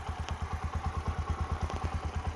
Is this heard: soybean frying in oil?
no